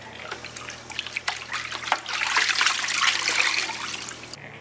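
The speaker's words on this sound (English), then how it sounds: "we wash it in the bucket" A towel being washed in a bucket of water, with splashing, sloshing and dribbling that grows fuller and louder toward the end, heard close up with no speech.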